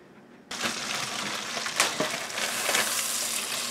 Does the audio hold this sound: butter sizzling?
yes